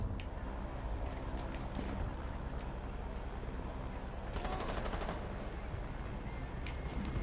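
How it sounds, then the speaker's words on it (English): Short bursts of rapid gunfire crackle in Rainbow Six Siege, faint and somewhat distant beneath steady game ambience, with one denser automatic burst near the middle. "Somebody's shooting me."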